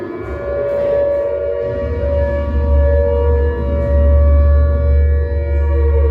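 A loud air raid siren in a former wartime shelter in Tirana, Albania wails steadily and continuously, a sustained rising and falling tone that fills the whole stretch without pause.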